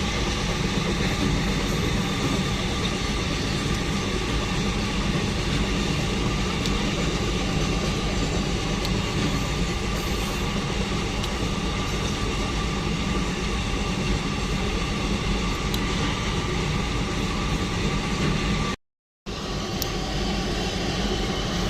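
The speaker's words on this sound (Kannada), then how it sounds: "ಟ್ರೈನ್ ಈಗ ಬಂತು ನೋಡ್ರಿ" An empty goods train rolls past a railway crossing, its continuous loud rumble and wheel clatter filling the whole stretch close by, with no voices over it.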